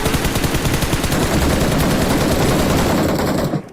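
Rapid automatic gunfire from the PUBG Mobile video game rattles loud and dense, a continuous burst of shots with no talk that cuts off near the end.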